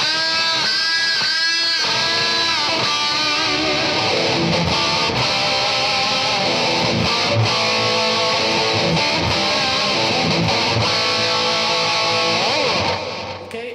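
Electric guitar through a Joyo JF-315 Metalhead distortion pedal plays loud and sustained, with gritty chords and bending notes ringing on without a break before trailing off at the end.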